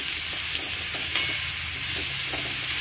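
Brinjals being stirred into sautéed onions in a pan, a steady soft sizzle of frying under scraping stir strokes, close and continuous with no talk.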